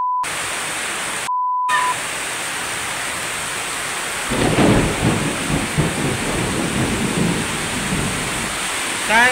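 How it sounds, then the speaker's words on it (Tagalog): Heavy rain pours steadily while thunder rolls in partway through, a loud rumbling swell over the constant rain roar, close and dense, no talk. "nakakatakot ng kulog kidlat dito"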